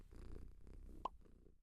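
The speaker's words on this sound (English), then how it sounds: "purr." A cat's purr used as a story sound effect, brief and quiet, with a soft rumbling texture and a small plop-like click near the end.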